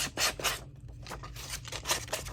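Scissor blades scrape repeatedly along paper edges in quick rhythmic strokes, close and moderately loud, with a brief pause midway.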